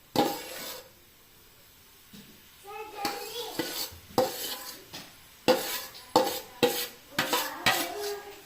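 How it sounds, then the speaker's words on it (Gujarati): Grated carrot roasts in hot ghee in a pan while a spoon stirs and scrapes it, making repeated loud metallic clanks and scraping strokes in an irregular rhythm over a faint sizzle. "ઘી ગરમ થઈ જાય એટલે ગાજરની બધી છીણ અંદર એડ કરી દઈશું।"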